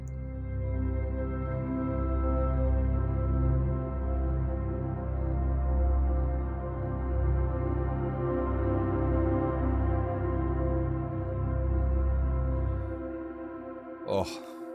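A Sonuscore Time Textures virtual instrument plays a factory sound: a steady, layered, evolving pad with rich sustained tones that holds for about fourteen seconds, then ends with a brief sharp transient.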